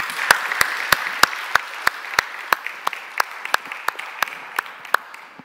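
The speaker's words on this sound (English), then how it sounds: "can we please give the presenters a round of applause" An audience at the Oxford Sustainable Finance Summit applauds the presenters with sparse, evenly spaced claps that sound like only a few people clapping in a steady rhythm for about five seconds.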